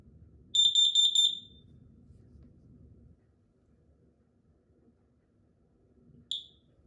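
A Kidde KN-COSM-B combination smoke and carbon monoxide alarm sounds during a test, giving a loud burst of rapid shrill beeps followed by one more short chirp after a pause, over faint background rumble.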